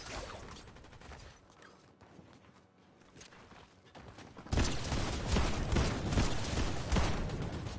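Rapid gunfire in a shotgun-only shooter video game, quieter at first with scattered shots and footsteps, then a dense, louder stretch of continuous firing in the second half, no talk.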